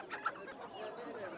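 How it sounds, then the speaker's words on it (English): A black-feathered, black-skinned chicken at a market in China clucks softly in a short, faint run of calls over low background noise. "This is a special black chicken."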